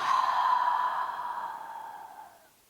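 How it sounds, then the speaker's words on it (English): A single deep yoga breath released through the mouth during a chair yoga session, a close, airy exhale that starts strong and fades smoothly away over a couple of seconds. "Inhale and exhale, let it go."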